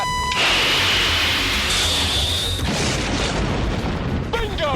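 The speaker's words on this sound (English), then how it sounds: "Yo, these explosions are sick." Loud, sustained explosions from the fighter-jet film Top Gun, a dense roaring blast with a rising whine, then a cut to crackling debris at the end, with no talk over it.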